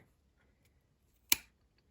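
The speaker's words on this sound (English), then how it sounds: "I'm just going to take my scissors" A single sharp snip of scissors trimming through quilt layers of top, batting and backing, one loud close cut standing alone in an otherwise quiet room.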